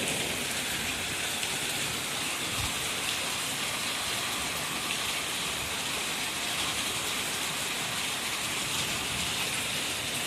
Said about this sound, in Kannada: ಎಷ್ಟು ಮಳೆ ಅದ ನೋಡ್ರಿ